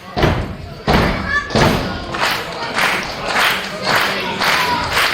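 A wrestling crowd erupts after a kick-out in an international singles match, loud rhythmic stomping thuds and clapping with roaring cheers while a commentator talks over them.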